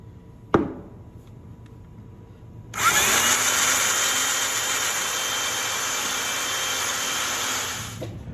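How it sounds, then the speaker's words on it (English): A sharp knock is followed by silence, then a power drill whirs loudly and steadily for several seconds before stopping, while a three-point hitch cylinder is installed on a Massey 50 tractor. "Okay, so let's start drilling."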